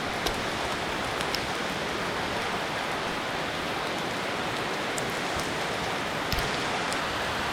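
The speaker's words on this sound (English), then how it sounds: "Now the rain is starting to really come down." Heavy rain pours steadily during a run, a dense continuous hiss with occasional sharper drop impacts close by, no voices.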